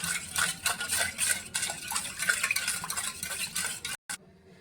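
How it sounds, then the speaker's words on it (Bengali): Yeast is stirred into milk, a close, continuous swirling scrape of a spoon in a bowl that stops abruptly near the end. "এবার ইস্টটা একটু ভালো করে দুধের সাথে মিশিয়ে নেব।"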